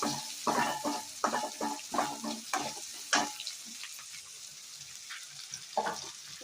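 Onions and masala sizzling in a pan for pepper chicken, with irregular scraping stir strokes over a soft frying hiss, fairly quiet and close, without any talk.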